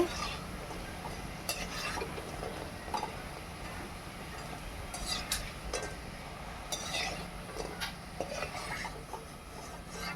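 Khurma sweets fry in oil, giving a soft, steady sizzle with occasional scraping and clinks of a utensil in the pan, faint throughout.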